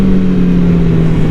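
MV Agusta Brutale 1000 motorcycle engine droning loudly at a steady pitch while riding with a blip shifter, constant and close with wind rush behind it.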